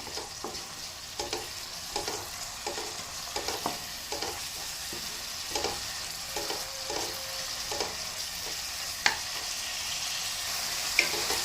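A tempering frying in a pan for a Punjabi milk-based bottle gourd curry, stirred steadily with a ladle: a constant hiss of sizzling oil runs through, broken by regular soft scrapes and clinks of the ladle, with no talking.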